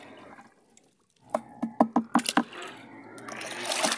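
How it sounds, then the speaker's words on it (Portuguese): Broken-corn pig feed is poured into a container, producing a quick run of about eight rattling, splashy bursts, followed by a rising rushing pour, close and loud with no talking. "Eu vou despejar essa quilera aqui dentro."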